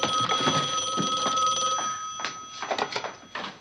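An old telephone bell rings steadily and loudly in a sitcom interior, the ringing continuing throughout before breaking into a few shorter bursts near the end.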